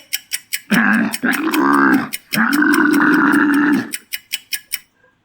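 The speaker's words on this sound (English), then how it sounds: "It's a camel." A camel lets out two long, deep, gurgling grunts, loud and close, framed by steady ticking beats before and after.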